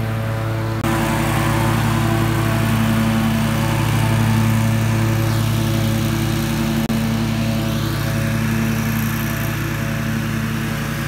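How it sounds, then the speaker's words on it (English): A Toro TimeCutter zero-turn mower drones loudly and continuously while mowing grass in a cemetery, its engine and spinning blades holding a steady, close hum with no talking. "with the Toro TIMECUTTER, those blades are moving so fast and so sharp, they make a beautiful cut"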